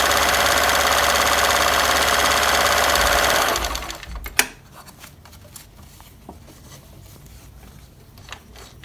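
A Bernina 730 sewing machine running a zigzag stitch, its fast steady mechanical whirring loud and close for about three seconds before stopping, followed by quiet handling clicks.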